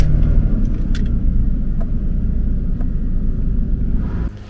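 A Jaguar XJS pulls away on its old tires, a steady close engine and road rumble running throughout, fading slightly right at the end.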